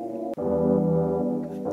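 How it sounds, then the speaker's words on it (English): A low-passed synth pad holds a warm, steady chord while piano notes come in on top, with a brief dropout near the start and a fresh attack near the end. "And then I add a piano."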